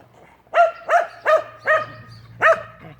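Five sharp dog barks in a steady rhythm, close and loud, over a faint low hum.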